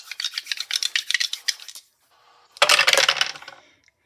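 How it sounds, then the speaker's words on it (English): Two dice for a family board-game session rattle in quick clicking bursts, then clatter loudly across a hard surface and settle after a short pause, close by, with no talking. "you just roll 2 dice"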